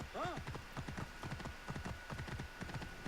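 A royal horse trots in Assassin's Creed Origins, its hooves clip-clopping in a steady rhythm throughout, close and clear beneath people talking.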